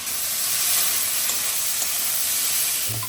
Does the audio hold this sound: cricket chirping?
no